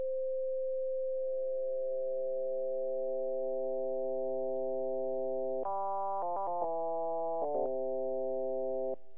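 A sustained, reedy oboe-like tone from an NI FM8 FM synthesizer, held steady and then stepping through several short note changes near the end, clean and alone.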